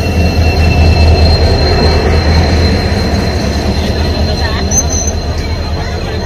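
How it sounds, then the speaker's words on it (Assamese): The Silghat DEMU train rolls into a station, a loud, continuous low rumble of wheels on rails with faint squeals and a brief whistle-like tone, with crowd noise in the background. "এয়া দেখিছে আমাৰ ট্ৰেইন আহি গল সিলঘাট ডিমু"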